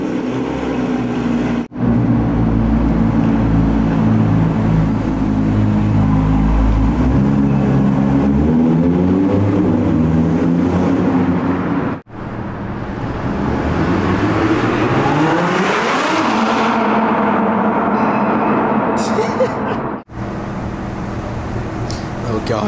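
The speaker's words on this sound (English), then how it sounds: "Now let's go for a drive" A supercharged Audi R8 drives off and accelerates hard, its loud engine climbing through rising revs with short breaks at the gear changes, then surging again close up for over twenty seconds.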